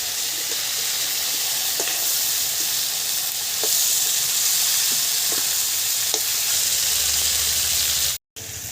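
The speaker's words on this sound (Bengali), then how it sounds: "কাঁটাগুলো কিন্তু ভাজা হয়ে গেছে" Bhetki fish bones fry in hot oil with a continuous bright sizzle and hiss up close, punctuated by a few soft taps as they are turned, before a brief cut.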